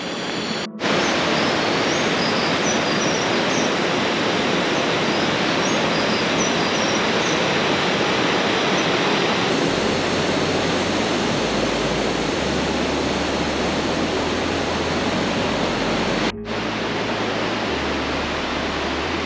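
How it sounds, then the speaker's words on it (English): Waterfall on the Shakadang Trail in Taroko Gorge, Taiwan, a loud, steady broadband roar of falling water that fills the whole clip with no voices, dipping for a brief instant near the start and again later. "and now a stunning waterfall."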